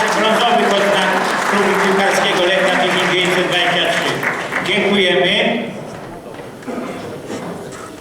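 Applause greets award laureates at a sports club's 90th anniversary celebration, a steady, fairly loud clapping bed under music and voices that fades out after about five seconds.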